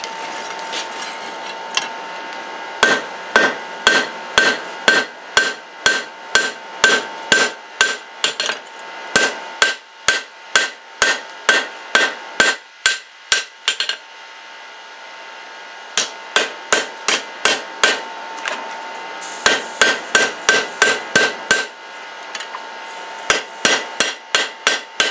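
A hand hammer strikes Damascus steel on an anvil while the knife handle is drawn out, in steady runs of sharp, ringing blows close by, broken by brief pauses, with no talking.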